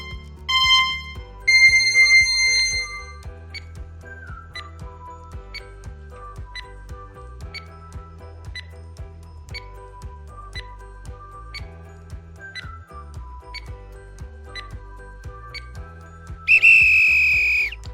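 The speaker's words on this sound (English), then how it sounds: "Your timer start now." A quiz countdown timer effect for a children's math lesson: evenly spaced high electronic ticks over a soft looping bed of low tones, opening and closing with louder bright chime-like stings.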